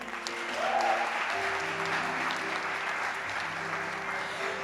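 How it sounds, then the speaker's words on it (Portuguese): A church audience breaks into steady applause, a dense wash of clapping that swells early and holds at moderate loudness throughout, heard from within the hall with no voices over it. "Você pode dar um aplauso, Senhor?"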